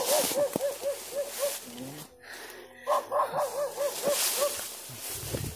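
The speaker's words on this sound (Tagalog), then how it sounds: "Aso." Dogs bark and yip repeatedly along a rural road, the rhythmic calls moderately close and mixed with voices talking nearby, pausing briefly before resuming.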